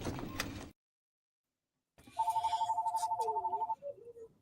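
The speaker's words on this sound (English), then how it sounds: "I have this landline that my mom insists on fucking having it be ringing" A landline telephone rings with a steady electronic warble lasting over a second, then a short fainter chirp, heard close indoors after a brief silence, with faint talk before it.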